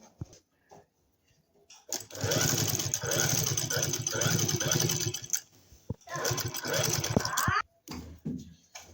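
A sewing machine stitches tissue fabric onto a salwar bottom border, running in two close bursts of fast, rattling stitching separated by a short pause, with some quiet sounds in the gaps.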